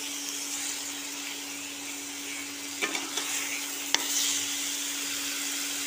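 Masala spice paste sautéing in oil for a rui fish curry, heard as a steady, fairly quiet sizzling hiss with a low constant hum behind it and a couple of brief clinks or scrapes partway through, with nobody talking.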